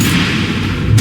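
Missile explosions in the video game Batman: The Enemy Within: a loud, continuous low rumbling boom that fills the whole moment, with a fresh burst swelling near the end.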